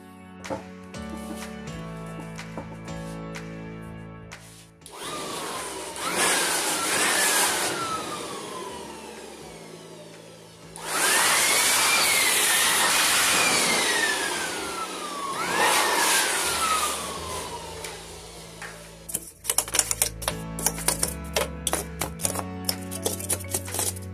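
A loud air blower roars in long bursts with pauses between while cleaning an HP Pro G2 all-in-one PC, its whine rising and falling, then rapid clicking takes over at the end.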